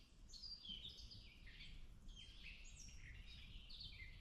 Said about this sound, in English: I would go with a catbird.